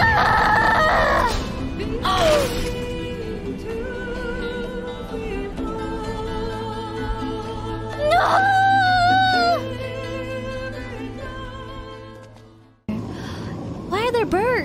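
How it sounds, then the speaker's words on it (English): Birds calling in Metal Gear Solid 4 at Shadow Moses: loud rooster-like crowing calls repeat several times over a dense, droning game soundtrack, with a voice talking alongside. "Why are there birds? This is pretty freaky. Are these like the ravens?"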